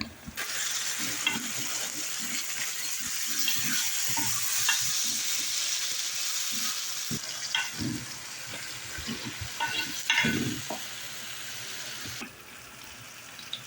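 Onions and tomato paste fry in a pan for a tuna fish curry, giving a steady close sizzle with occasional stirring scrapes and clinks throughout.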